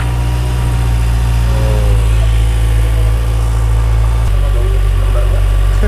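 A 2024 Kawasaki ZX-6R sport motorcycle idling close by with a steady, loud, even engine drone throughout, and a slight drop in pitch partway through.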